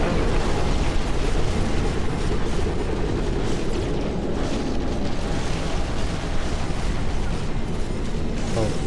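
Rockets exploding in the mech strategy game Phantom Brigade, a dense, continuous roar of blasts and booms filling the whole stretch at high volume with no pauses and no voices.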